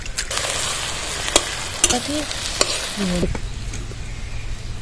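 Potato peel paste frying in a pan with onion, chili, garlic and salt: constant close sizzling broken by several sharp utensil clicks and taps, with a short scraping stir near the end and no voices.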